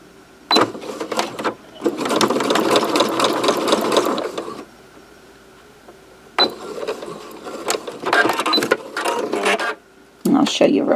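Sewing machine stitching a zipper with a tab, running in several rapid mechanical bursts separated by pauses, close and loud.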